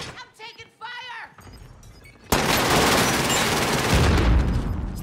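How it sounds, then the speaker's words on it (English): Call of Duty Cold War Warzone gameplay: a voice talks briefly, then a loud, dense burst of sustained gunfire fills the rest, close and continuous. "I'm taking fire!"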